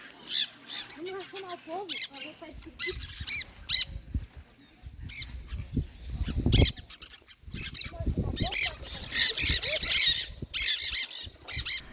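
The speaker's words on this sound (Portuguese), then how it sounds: "O periquito de cabeça preta também é conhecido como príncipe negro" A flock of black-hooded parakeets squawks and chatters loudly, harsh repeated calls overlapping close by, while a person talks underneath, in the Pantanal wetlands of Miranda, Brazil.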